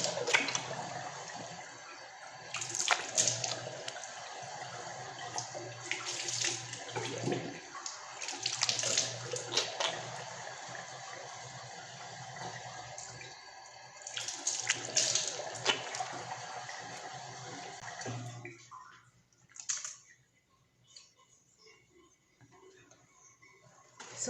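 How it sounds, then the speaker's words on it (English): Lukewarm tap water runs steadily from a faucet while a face is washed, a continuous splashing stream with brief surges as hands scoop water, then cut off near the end leaving a few faint drips. "Make sure you use lukewarm water to wash your face."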